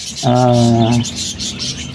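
A young bird gives a single short, clear call lasting under a second, followed by faint higher chirps and soft background noise.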